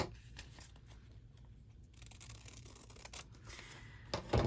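Scissors trim a sheet of light green paper for a glue book page, giving a series of soft, close snipping and rustling sounds with a louder crinkle near the end.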